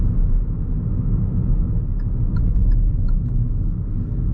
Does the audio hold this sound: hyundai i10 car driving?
yes